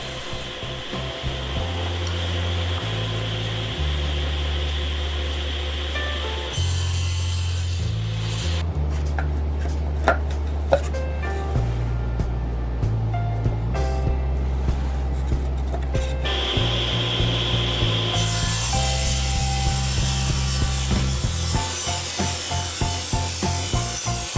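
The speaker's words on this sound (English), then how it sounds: "Piece of oak is what I'm using for the base of the bracket. I'm cutting it to size to fit into the pocket in the back of the shelf." Hand sawing through a piece of oak to size for a shelf bracket base, a steady continuous rasping and rubbing that runs throughout at close range, with rhythmic strokes and no talking.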